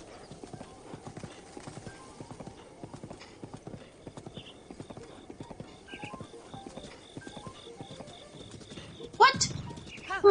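Steady clip-clop of horse hooves trotting throughout, with a short whinny near the end, from The Legend of Zelda: Breath of the Wild; a voice speaks briefly over it.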